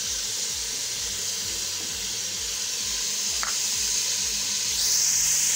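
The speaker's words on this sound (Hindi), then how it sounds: "इसको 1 से 2 मिनट के लिए अच्छे तरीके से हम फ्राई कर लेंगे" Green chili sizzles and fries steadily in hot oil in a pan during potato and pea curry cooking, a loud continuous hiss with a brief stir clatter and a sharper hiss near the end.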